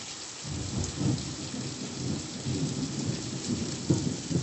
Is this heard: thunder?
yes